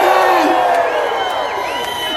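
A crowd at an Andrew Yang rally in downtown Los Angeles cheers and whoops loudly and continuously, with scattered whistles rising above the din.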